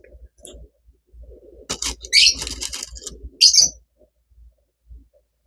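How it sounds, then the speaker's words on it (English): Pet lovebirds chatter and chirp indoors in short bursts, with a couple of sharper, brighter calls standing out among quieter scattered tweets and low background noise. "My little lovebirds are chatting about."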